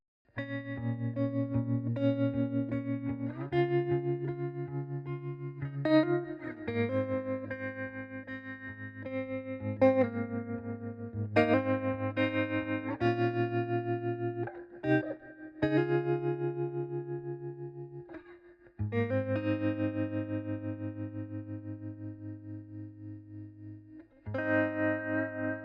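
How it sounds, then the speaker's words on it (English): An electric guitar played through a Silver Llama or Twin Panda amp sim pedal from Safari Pedals, with reverb feeding into tremolo, rings out in sustained chords and notes that pulse and decay, alone without talk. "And the reverb is going through the trem."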